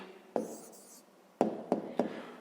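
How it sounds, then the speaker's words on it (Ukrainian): A pen writes an answer by hand on paper, with a short scratch followed by three quick taps or strokes, close and quiet, with no talk. "Записуємо відповідь."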